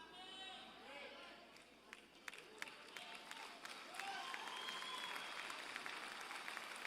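Men in a church congregation break into applause during a sermon. Scattered claps come first under some murmuring, then grow into fuller, steadier clapping mixed with crowd chatter.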